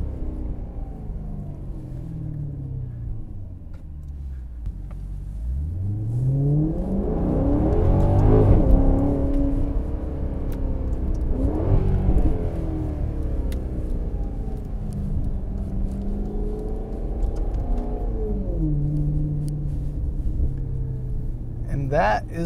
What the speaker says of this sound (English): Sounds fantastic with that Ferrari motor. And I'll downshift a little bit for the fun.